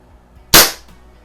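A Daisy CO2 BB gun fires once, a single sharp close crack of a BB punching through a can, followed by a short fading ring.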